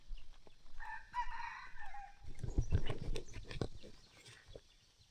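A wild jungle fowl rooster crows in the forest, one clear cock-a-doodle-doo at moderate distance. Rustling and crackling movement nearby follows it.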